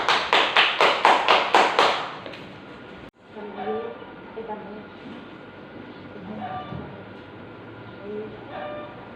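A class applauds after a group presentation in a mathematics lesson, a short burst of rhythmic clapping that stops abruptly, followed by quieter room noise and scattered sounds.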